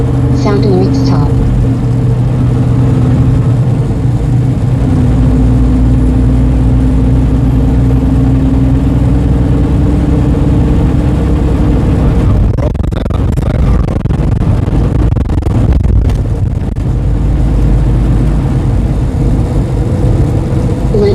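A Kenworth T680 truck engine drones steadily while driving, a loud low rumble throughout, with someone talking over it.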